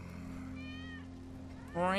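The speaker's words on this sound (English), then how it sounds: "That's Wedge's cat." Cat meowing in Final Fantasy VII Remake, several clear, close meows rising over a low steady game hum, the last one louder and brighter.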